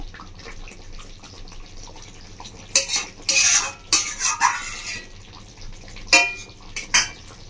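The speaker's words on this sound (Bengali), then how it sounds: "টমেটো সস, সসটা দিয়ে একটু নাড়াচাড়া করে নেব।" A spoon stirs kalbos fish kalia curry after tomato sauce goes in, soft simmering background broken by bursts of metallic scraping and clinking against the pot, close and irregular.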